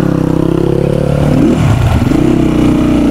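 A Crossfire RM 250 off-road motorcycle engine revs loudly and close, with a throaty, pulsing idle that rises into a rev and then settles back.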